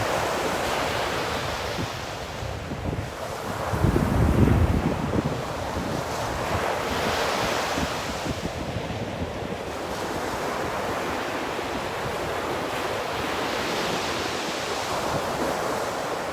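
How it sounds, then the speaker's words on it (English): Rough surf rolls and crashes steadily, with strong wind buffeting the microphone and a heavier surge of water partway through. "the rough waves, the sound of the waves"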